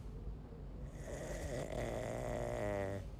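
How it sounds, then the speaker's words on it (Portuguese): Snoring from a character in Spider-Man: Miles Morales, a drawn-out rumbling snore building over a few seconds beneath game background ambience, moderately loud and close. "Bicho ronca mais que descarga desarranjada."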